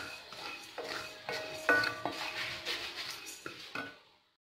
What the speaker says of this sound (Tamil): நல்லா பொரிய ஆரம்பிச்சிருச்சு